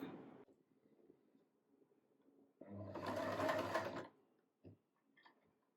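A sewing machine fitted with a buttonhole foot stitches a buttonhole, running in a loud, fast burst of about a second and a half after a quiet stretch, then stopping with a couple of faint clicks.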